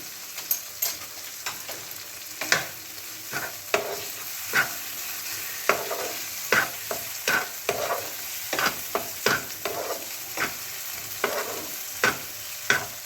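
Poppy seeds being stirred in a dry pan for paneer butter masala, a spoon scraping in irregular, close taps and strokes over a faint steady sizzle, with no voices.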